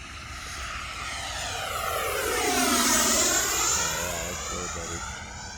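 Freewing F9F Cougar RC jet doing touch-and-goes in calm air, its electric ducted-fan whine rising and Doppler-shifting as it sweeps close past and then recedes, steady and loud throughout.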